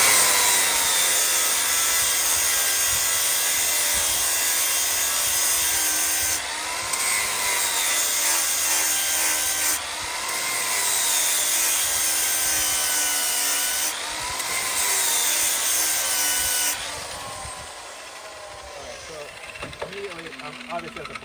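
Brand new grinding disc sharpening steel mulcher teeth, a loud continuous abrasive whine and scrape that dips briefly in regular passes, then winds down near the end.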